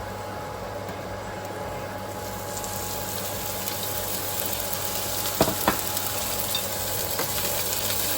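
Oil heating in a hot wok for okra and scrambled eggs, giving a steady, moderate sizzle that grows fuller after a couple of seconds, with a few faint clinks near the end and no talking.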